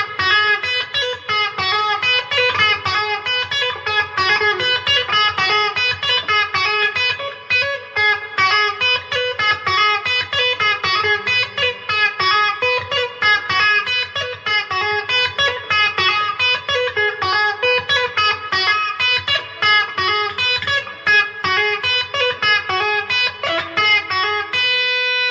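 Electric guitar soloing with fast hammer-ons and pull-offs, a dense, distorted effects-laden tone streaming continuous rapid notes at steady loudness for the whole stretch, with no talk.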